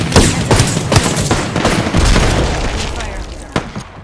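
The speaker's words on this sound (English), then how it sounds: "I am taking fire, friends. Getting shot at." Rapid video game gunfire crackles in repeated sharp bursts with heavy booms, close and loud throughout, mixed with other game noise.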